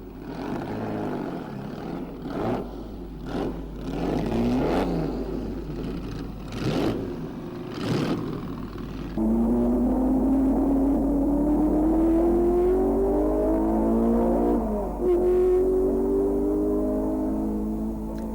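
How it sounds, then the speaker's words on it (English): A racing car engine revs in short bursts at the Belgian Grand Prix circuit, Spa-Francorchamps, then holds a steady rising drone as it accelerates away, loud and close. "With the adjustment made, Maurice prepared to venture out onto the circuit once again."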